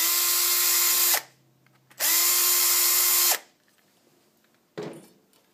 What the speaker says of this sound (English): I'm going to ream those out.